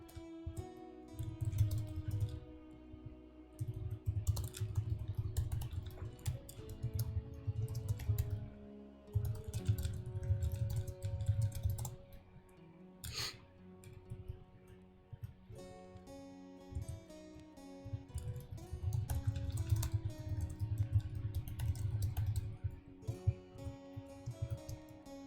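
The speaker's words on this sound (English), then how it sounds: "Just a moment as I am typing away over here." Steady typing on a computer keyboard, a continuous run of close, quick key clicks with brief pauses and a low hum underneath, no voices.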